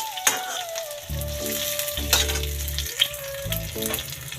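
Grated coconut fries in a pan with a steady sizzle, while background music with low bass tones and a melody plays over it, punctuated by a few sharp clicks.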